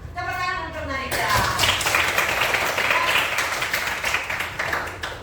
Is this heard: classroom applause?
yes